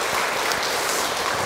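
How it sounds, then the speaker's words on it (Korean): A church congregation claps together during a Catholic Assumption Day Mass with a church dedication ceremony at Wondang-dong Catholic Church, a steady broadband patter of many hands filling the space without a break. "모두 박수 먼저 좀 치고요"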